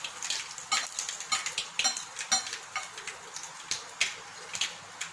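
Asafoetida dropped into hot oil after dry spices have crackled, for a quick raw mango pickle tempering: sharp spitting crackles and pops burst irregularly over a thin sizzle, close and moderately loud, with no talking.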